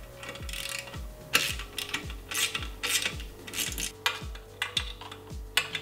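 Close, repeated metallic ratchet clicks come in short bursts as exhaust manifold fasteners are tightened at the cylinder head of a Yamaha T-MAX scooter fitted with a Yasuni carbon exhaust.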